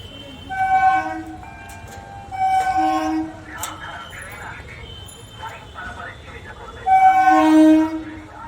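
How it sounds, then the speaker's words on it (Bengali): A local train arriving at a busy station platform while people cross the tracks, sounding repeated loud, sustained horn blasts in three separate bursts over steady crowd and rail background noise. "ট্রেন আসছে এবার, তবুও লোক লাইন পারাপার হচ্ছে।"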